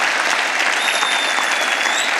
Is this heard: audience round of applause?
yes